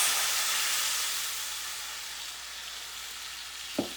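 Liquid poured into a hot pan of browned garlic and rosemary for orange rosemary chicken sets off a loud, steady sizzle that slowly fades, with a single sharp knock near the end.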